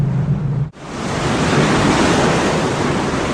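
Rough sea and wind batter the ship Latour, heard as a loud, continuous roar of surf and wind noise after a brief cut, with no voices.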